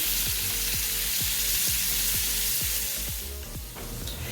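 Shrimp skewers sizzle loudly in a pan, a constant close hiss of frying with a string of regular soft knocks or pops running through it and no talk.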